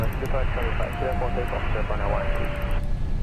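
A Boeing 787-8 airliner in Microsoft Flight Simulator rolls for takeoff at Haneda, its jet engines a steady, loud roar beneath cockpit talk that runs over most of the sound.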